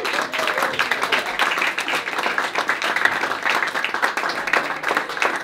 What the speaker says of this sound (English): Will you please give a huge round of applause for Out of Time?